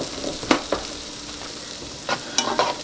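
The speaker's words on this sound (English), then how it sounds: "toss the carrots around" Carrots sautéing in a pan for vegetable fried rice give a steady sizzle, broken by a few sharp scraping strokes of stirring and tossing, close and fairly loud.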